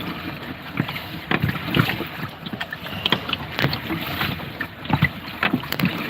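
Rough whitecap water rushes steadily against a small boat on open water, with repeated splashing bursts and constant wind buffeting the microphone, loud and close throughout.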